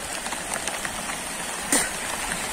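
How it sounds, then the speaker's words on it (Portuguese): Heavy rain falls in Ceará as a steady, even hiss close around, with one brief louder splash partway through. "E nesse exato momento tá chovendo."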